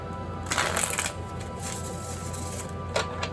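Small, bendy tarot cards riffle and shuffle in quick bursts of papery flutter, close up, with brief pauses between shuffles.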